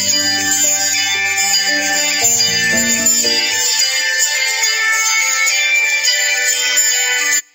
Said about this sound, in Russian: Однако, его звонка вполне будет достаточно для большинства ситуаций.